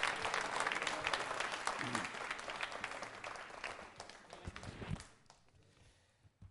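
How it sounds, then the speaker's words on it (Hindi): A quiz show audience applauds at a Diwali music event, dense clapping close and loud for about five seconds before it thins and fades out. "तालियां जोरों से बजाइए आपके लिए"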